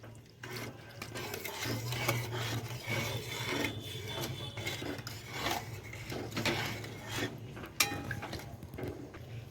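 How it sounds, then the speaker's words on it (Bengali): Chili chicken sauce stirred steadily in a pan while arrowroot is added, giving quiet continuous scraping and rubbing strokes. "অ্যারারুট দেওয়ার সময় কিন্তু নাড়তে থাকতে হবে, তা না হলে ডেলা পাকিয়ে যাবে।"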